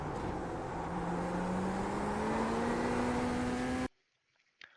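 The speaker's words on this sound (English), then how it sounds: "that's when I downshift to second gear. And I'm slowly ramping the throttle back up." Chevrolet Corvette Z06 GT3.R race car engine in iRacing at Imola, loud and steady, pitch climbing as the throttle is slowly reapplied after a downshift to second gear, then cutting off abruptly near the end.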